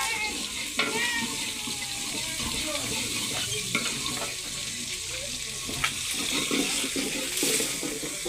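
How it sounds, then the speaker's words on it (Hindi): Spice masala fries and sizzles in a pan with occasional stirring while cooking a mungra and cauliflower dish, a steady hiss running throughout with faint clinks and kitchen background. "अब जी मसाला जी हमारा भून रही है"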